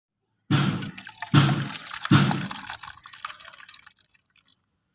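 Boiled spinach being poured out of a pot: three quick splashing gushes of hot water and leaves, then a thinning trickle that drips away to silence.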